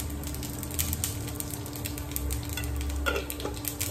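Panch phoron seeds crackle in hot oil with rapid, irregular little pops and ticks over a low steady background hum, close and moderately quiet, with no speech.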